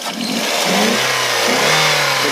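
Engine of a used Toyota F Premio car revving up close, its pitch rising and falling in a couple of smooth swells over a steady idle, loud and alone.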